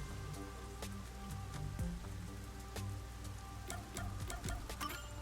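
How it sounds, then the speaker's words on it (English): Steady rain in the video game Raincode falls as a continuous patter of drops with scattered sharper drips, moderately quiet and heard alone without speech. "The rain just won't stop, huh?"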